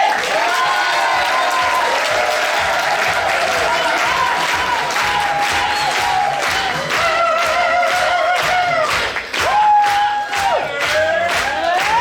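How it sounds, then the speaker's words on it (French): A theatre audience applauds warmly and loudly for a comedian's first sketch, dense sustained clapping mixed with cheers and whoops, a few voices calling out over it. "Je vous demande de l'applaudir chaleureusement"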